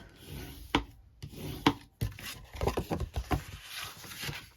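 Scored lines on paper are burnished while making a small candle gift box: close, dry rubbing and scraping strokes in short uneven bursts.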